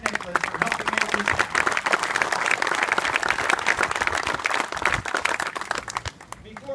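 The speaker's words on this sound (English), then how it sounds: "let's give another round of applause to Jack Nicklaus" A crowd at a golf benefit dinner applauds Jack Nicklaus with brisk, loud clapping that holds steady for several seconds before tapering off, with a few voices mixed into the applause.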